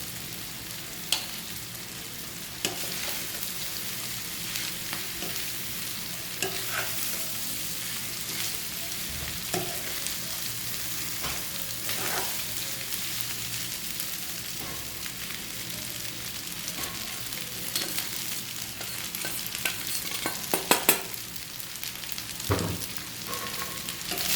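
Rice is stir-fried with vegetables in a pan, restaurant-style Chinese fried rice, giving a continuous, close sizzle with scattered scraping and tossing knocks from the spatula over a long stretch.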